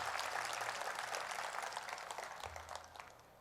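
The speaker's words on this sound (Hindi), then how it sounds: "जोरदार ताली से स्वागत करिए" A crowd at a public gathering applauds to welcome Dr. Raman Singh, a dense steady patter of clapping that gradually fades over a few seconds.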